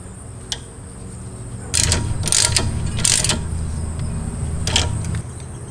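A ratchet wrench tightens a 10mm screw on an ABS sensor mount during a front strut replacement on a Ford Escape, Mazda Tribute or Mercury Mariner, giving three short, close bursts of rapid metallic clicking.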